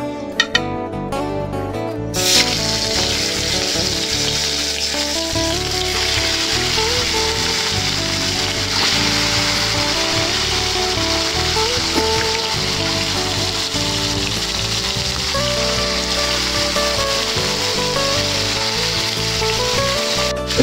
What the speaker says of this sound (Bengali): এখন এই চিকেনগুলোকে এক এক করে ভেজে নেবো